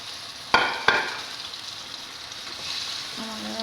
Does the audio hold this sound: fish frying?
yes